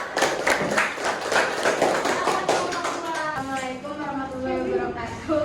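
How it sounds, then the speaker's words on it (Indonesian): A burst of quick, dense hand clapping from a group, fading after a few seconds as voices take over. "Tepuk tangan semuanya untuk kelompok 2."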